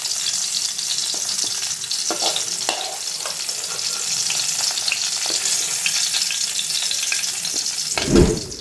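Onions and roasted gram fry in hot oil in a pan for coconut chutney, with a continuous bright sizzle, a few stirring scrapes, and a louder clatter near the end.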